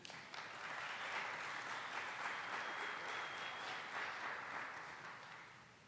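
Audience applause greets presenter Lew Kana as he takes the stage, a dense, steady wash of clapping from a sizeable crowd that holds for about six seconds, then begins to taper.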